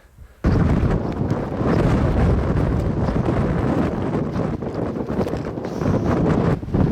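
Strong wind buffets the microphone at the summit of Rosillos Peak in Big Bend National Park, a loud, continuous roaring rumble that starts abruptly and holds for several seconds.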